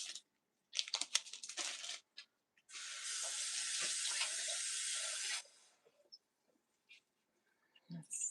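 A kitchen tap runs in a steady rush for a couple of seconds to wet a rice-paper spring roll wrapper, preceded and followed by soft handling rustles and clicks, with no talk.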